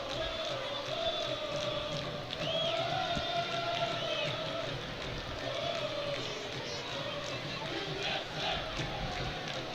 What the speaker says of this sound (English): You hear the chants going.